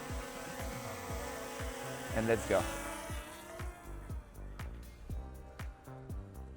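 A Skyrover X1 drone spins up its propellers, a steady buzzing whine rising near and close under brief talk, with rhythmic clicks running through.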